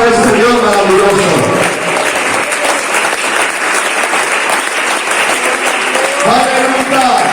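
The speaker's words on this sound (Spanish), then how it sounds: "que le diga fuertes aplausos a este Dios maravilloso" A church congregation breaks into loud, sustained applause during a sermon, with a preacher's voice audible at the start and again near the end over the clapping.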